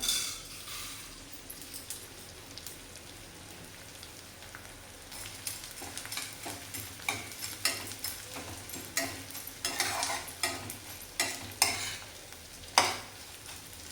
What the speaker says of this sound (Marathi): आपण हे थोडे थोडे करून तळून घेऊया